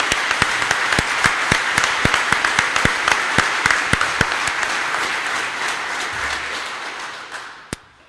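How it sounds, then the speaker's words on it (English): An audience at a fire recruit graduation ceremony claps in sustained, fairly loud applause with sharp individual claps standing out, then it tapers off and fades near the end. "Let's give them another round of applause and recognition."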